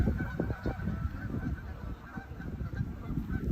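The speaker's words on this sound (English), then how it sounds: "And geese over here too." A flock of geese gathering at a lake before migrating south honks continuously over a steady outdoor background, calls overlapping at a middle distance.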